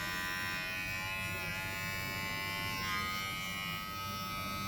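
A BaByliss E977E hair clipper with self-sharpening blades runs after being switched on, giving a steady close electric buzz with a faint whine and no talking over it.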